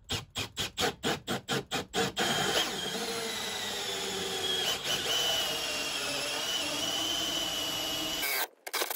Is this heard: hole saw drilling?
yes